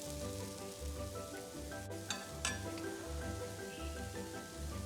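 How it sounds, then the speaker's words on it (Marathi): Crispy wheat-flour veg apam balik batter sizzles steadily on a hot griddle over medium gas, a dense continuous frying hiss with a few light clinks and scrapes partway through. "तवा तापलेला आहे, आता आपण घालूया."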